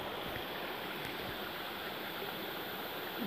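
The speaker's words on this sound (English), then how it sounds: "Waterfall." Curug Nangka waterfall in Halimun Salak National Park gives a constant broadband rush of falling water, loud and unbroken, with no voices.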